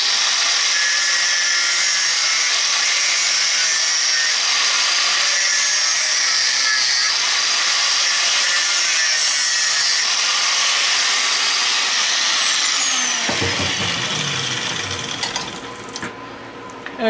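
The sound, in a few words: angle grinder cutting scrap brass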